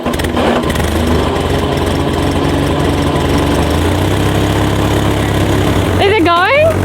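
Engine of a 1980s Bombardier snow cat catching and settling into a steady, loud low rumbling idle throughout, with voices talking over it and a rising whine near the end.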